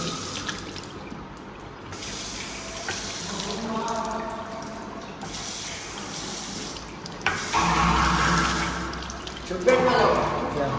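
A bathroom tap runs steadily while someone washes their face, the splashing water getting louder and more broken near the end, with voices talking over it.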